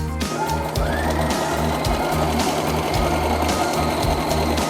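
Sewing machine double-stitching a recycled T-shirt into a tank top, a close, steady rapid mechanical whirr with a fast rhythmic needle chatter running continuously throughout, no voices.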